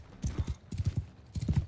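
Horse hooves clip-clop in Mount and Blade 2: Bannerlord, three quick bursts of rapid, close thudding footfalls in a galloping rhythm.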